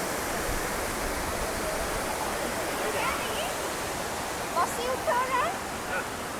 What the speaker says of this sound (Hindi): छोटा सा वाटरफॉल है ये, और ये नेचुरल वाटरफॉल है